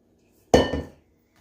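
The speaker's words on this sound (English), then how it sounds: "So scrape it out really good and spread it." Banana bar batter being scraped from a bowl and spread in a baking pan produces one loud, close clatter of utensil on cookware that rings briefly and fades within half a second, with quiet before and after.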